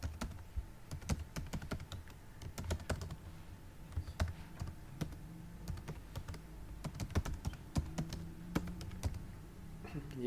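Steady typing on a computer keyboard while entering account details into a web form, with rapid, close key clicks running throughout.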